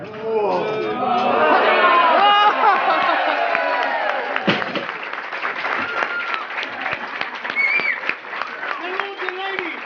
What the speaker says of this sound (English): a large round of applause for our king and our queen